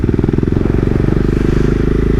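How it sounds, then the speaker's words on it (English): A KTM 690 Duke R single-cylinder motorcycle, a 2017 A2 model, chugs at low revs below 3000 RPM with a steady, rapid thumping pulse that stays loud and close throughout, rough and uneven. "If the bike goes lower than 3000 RPM, it starts to shake, as you see now."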